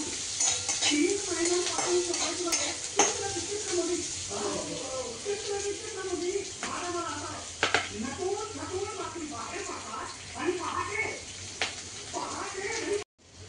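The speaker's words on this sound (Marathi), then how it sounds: "चला आता आपण कांदा टाकूया तेलामध्ये।" Onions fry in oil in a pan, with a steady sizzle, frequent stirring clatter and scrapes of utensils on metal, close and continuous, while a voice talks at times over the cooking.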